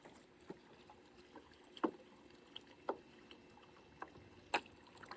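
A juvenile sea turtle that was cold-stunned stirs up the water in its hospital tank, making a handful of sharp, separate splashes and sloshes over a low steady background hum.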